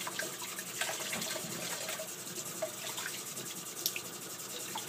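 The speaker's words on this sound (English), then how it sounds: "I will turn the water on low and just run the water over her" Low tap water runs steadily over a bantam Polish chicken being washed, a continuous close hiss and splash with small drips and spatters on top and no talking.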